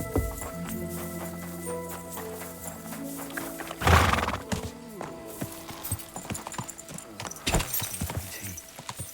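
Horse neighing and hooves in Kingdom Come: Deliverance II: a sharp whinny rings out at the midpoint over sustained tonal music, with scattered hoof clops and brief rattles continuing around it.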